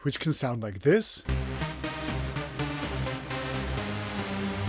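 A Reese techno synthesizer bass follows a brief spoken phrase, a thick, detuned, growling low tone held under pulsing rhythmic stabs that continue steadily to the end.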